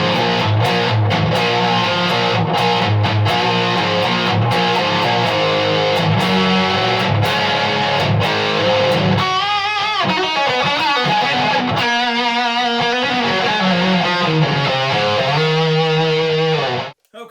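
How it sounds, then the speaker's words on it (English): Electric guitar through a Suhr Riot distortion pedal at maximum distortion, vintage switch setting, played as dense, saturated chords and then sustained notes, loud and continuous until an abrupt stop. "this is distortion max setting"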